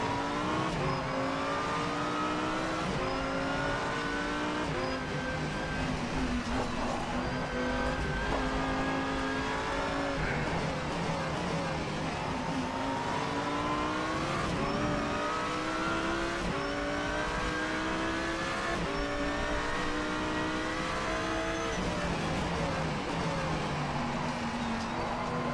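A Lamborghini Huracán Super Trofeo Evo race car in rFactor 2 drones continuously, its engine rising and falling through repeated gear changes and revs, with tire noise under braking into corners.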